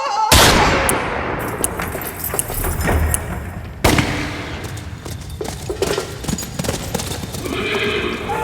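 Gunshots ring out in a comedy western amid a noisy scene with horses whinnying and hooves clip-clopping, several sharp loud bursts standing out, notably near the start and again midway, with dense chaotic background.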